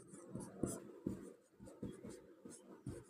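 Rapid handwriting strokes as a math equation is written out by hand during a Class 10 algebra lesson, a steady run of close scratchy pen-on-surface bursts with brief pauses, no talking.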